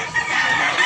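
Chickens at a poultry market in Tabunok, Talisay, Cebu, a brief close cluck or crowing call from a bird, short and fairly loud.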